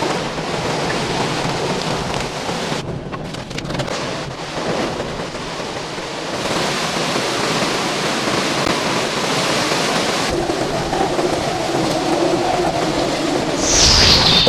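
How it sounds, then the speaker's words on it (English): A Category 5 hurricane churns the ocean, giving a loud, continuous roar of wind-driven rain and crashing surf with heavy rumbling and buffeting gusts throughout. "Behold the magnificent power of a Category 5 hurricane"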